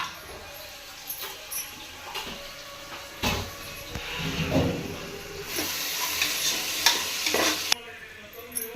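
Soybean curry spiced with cinnamon, cardamom, cloves, chili powder, coriander powder and garam masala being stirred and fried in a pan with hot water added: close scraping and clattering stirs over a steady sizzle that swells into a louder, hissing fry partway through.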